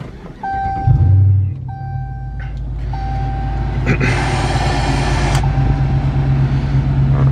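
A 2016 Chrysler 300S with a 5.7L HEMI V8 starts with a brief loud crank and catch, then settles into a steady low idle rumble while a few electronic chimes sound in the cabin.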